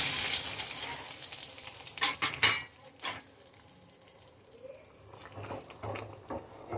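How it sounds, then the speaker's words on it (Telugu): A sizzling tempering of garlic and dried red chillies fried in ghee is poured and stirred into tomato dal, giving a loud burst of hissing crackle with a few sharp utensil knocks that settles into softer bubbling. "తాలింపుని దీంట్లో వేసుకుందాం."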